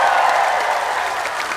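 Audience applause at a comedic religious gathering in Taiwan, a brief dense burst of clapping that fades slightly, with no speech over it.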